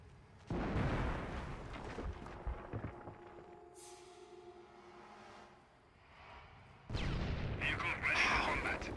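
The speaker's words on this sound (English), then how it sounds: "Oh, that's the landmine that got exploded." Landmine blasts from the World War II strategy game Company of Heroes erupt as two heavy, low booming explosions several seconds apart with rumbling tails, under quieter battle noise and someone talking.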